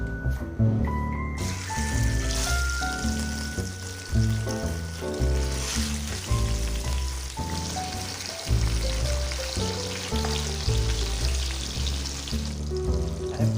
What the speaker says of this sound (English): For frying fish.